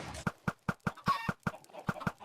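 Minecraft chickens cluck in a quick, steady series of short, sharp clucks, close and clear with little else around them, from a redstone chicken farm.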